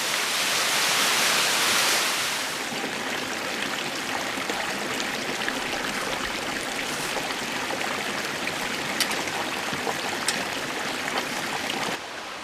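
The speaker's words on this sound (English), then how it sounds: "It's like a waterfall mixed with a slot canyon." Waterfall and stream rushing through a slot canyon near Moab, a steady broadband roar of falling water, loudest at the start and then constant, with no talk.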